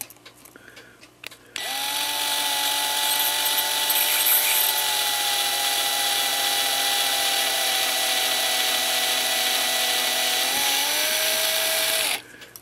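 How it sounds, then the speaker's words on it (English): A worn bushing hole in a cuckoo clock plate is reamed out with a steady, high-pitched whirring tool that runs continuously for about ten seconds, then stops abruptly. "we're going to ream this out to"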